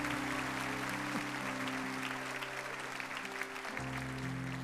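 A church congregation applauds at a Sunday morning service, a dense, steady wash of clapping with a sustained low musical tone beneath that cuts off near the end.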